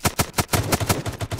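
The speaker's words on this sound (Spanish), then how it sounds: "Escucho disparos" Rapid gunfire in the Roblox game Slums: a fast, even burst of about nine loud shots with no voices.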